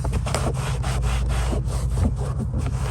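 Brisk back-and-forth rubbing of a cloth on a car door armrest, a rhythmic scrubbing with a low hum running underneath.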